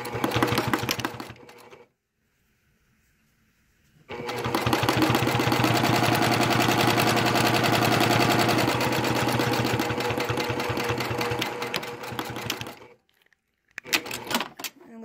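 Sewing machine running a 5/8 inch seam through lined-up fabric edges, a steady rapid stitching drone that starts briefly, pauses, then runs continuously for about eight seconds before stopping, with a short burst near the end.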